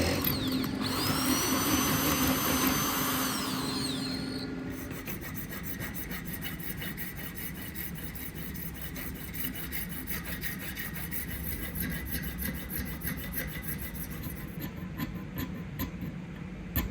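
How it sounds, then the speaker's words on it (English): Hand sanding of a handmade katana blade cut from an old saw blade, with fine sandpaper rubbing steadily and closely in a continuous scratchy wash, louder at the start and then settling into a softer even rasp. "A little hand finishing with fine sandpaper."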